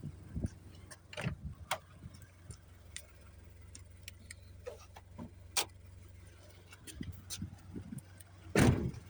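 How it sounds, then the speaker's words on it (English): The hood of a 2015 Toyota Scion FR-S is opened, with scattered sharp clicks and small knocks from the release and latch, then a louder clunk near the end, over faint outdoor background. "let's pop the hood."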